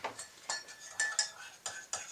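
A spoon knocks and scrapes against a pot while yeast is stirred into mead must, giving a series of sharp, close clinks in an uneven rhythm with brief metallic rings.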